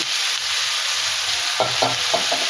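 Taro (mukhi kochu) frying with fried shrimp and spices in a pan, a steady hiss running throughout with soft stirring scrapes near the end.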